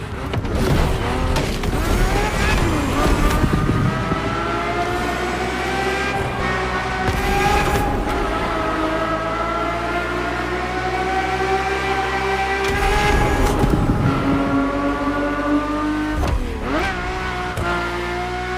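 Ferrari F50 with a normally aspirated V12 in the racing game The Crew Motorfest, revving hard through repeated climbing pulls with brief drops at each gear change, loud and close throughout, with no talk over it.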